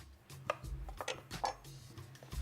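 A knife chops through squash on a cutting board in a series of quiet, irregular strikes, close and soft with no talking.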